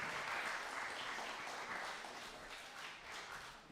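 Crowd applause for the bands at a fundraiser concert, a full, steady roar of many hands clapping that eases off a little over a few seconds.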